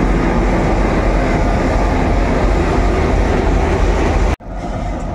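A WDM 3A diesel locomotive, number 16461 from the Bardhaman loco shed, rumbles loudly and steadily at close range at Azimganj Junction, hauling a loaded freight train, until the sound cuts off abruptly near the end.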